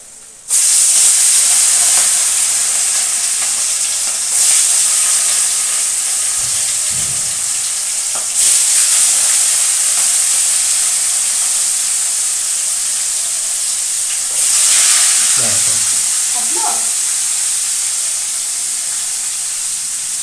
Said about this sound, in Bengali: আর এখানে পোনা মাছ, মানে কাটা পোনা মাছ ভাজবো, সেই তেল গরম হয়েছে।